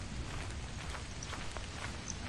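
Steady rain falling during a storm in the Lethal Company video game, a dense, even hiss of drops that holds unchanged at a moderate, fairly quiet level throughout, with no voices over it.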